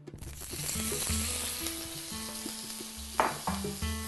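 Potatoes hit hot extra virgin olive oil in a pan over medium-high heat and sizzle steadily, with a few clinks and shifts of the pan breaking through the continuous frying hiss.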